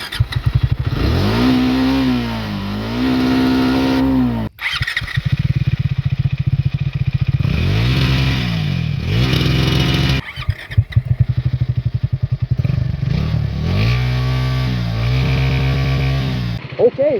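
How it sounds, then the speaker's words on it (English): A 2024 Triumph Speed T4 motorcycle being ridden, its engine revving up and down through repeated accelerations with gear changes, loud and close, with wind rush and someone talking at times. "let's start riding this Triumph Speed T4"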